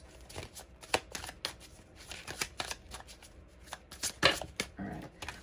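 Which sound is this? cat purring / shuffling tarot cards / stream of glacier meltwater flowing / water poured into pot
shuffling tarot cards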